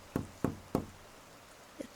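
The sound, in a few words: soft knocking with a single knuckle on a window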